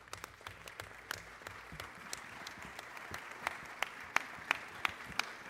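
A committee audience at a full committee vote on the 21st Century Cures Act applauds staff members with a sustained round of clapping, scattered sharp individual claps standing out over a moderate wash.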